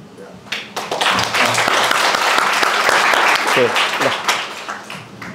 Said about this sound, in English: But please give applause to Pak Gita.